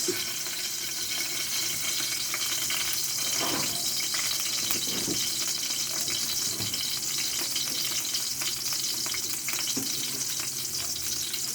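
Butter melting in a hot pan for mushroom sisig, a steady bright sizzle that hisses on throughout with a few soft scrapes and knocks, and no talk.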